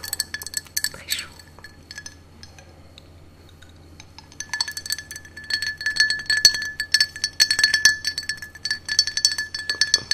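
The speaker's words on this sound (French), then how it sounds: "Je me suis fait une petite boisson rafraîchissante avec des glaçons." Ice cubes in a glass of cold drink clink sharply, a few taps early on, then a busier stretch of rattling and chinking after a quiet pause, close and crisp.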